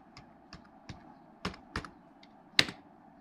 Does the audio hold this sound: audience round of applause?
no